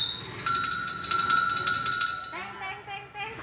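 A bright metallic bell rings with a sustained shimmering tone for a couple of seconds, then a voice follows, sing-song imitating the bell's ringing.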